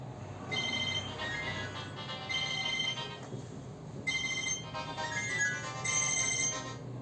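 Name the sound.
mobile phone ringtone ringing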